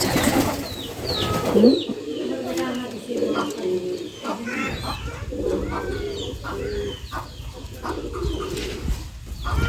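Several pigeons in a village pigeon loft coo continuously nearby, low throaty calls overlapping one another, with occasional chirps and a person speaking in the background.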